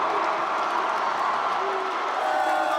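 Convention hall crowd at a Democratic Party presidential nomination announcement, cheering and applauding steadily throughout, a dense, continuous roar of voices and clapping filling the large room.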